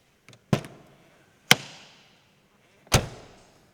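A rear door of a Lotus Carlton shuts three times in close succession, each a sharp, solid thunk with a short decaying tail, recorded nearby in an otherwise quiet setting.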